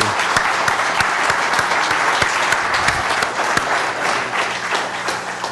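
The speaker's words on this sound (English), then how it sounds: "Everyone, round of applause for the panelists." Audience applause for a panel at a mobile marketing meetup, steady dense clapping from a room of people that holds for several seconds, loud and continuous with no talk over it.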